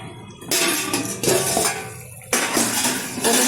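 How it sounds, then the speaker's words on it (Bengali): A metal lid is lifted off a cooking pot of Bengali sundori katla fish curry, giving a few sharp clanks and clatters close by, with a sizzling hiss beneath. "ঢাকনাটা তুলে দিচ্ছি।"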